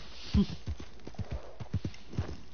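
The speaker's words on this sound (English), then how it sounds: "get on your horse and leave" Horse hooves clop in a quick, uneven gallop rhythm in Red Dead Redemption 2, each thud fairly close and distinct against a quiet background.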